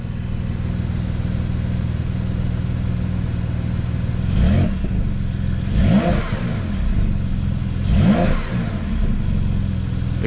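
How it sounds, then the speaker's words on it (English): A 2021 Porsche 911 Carrera coupe idles steadily, then blips its engine in three quick revs that rise and fall a couple of seconds apart, heard close through an open door. "I'm gonna open the door and get y'all some quick revs,"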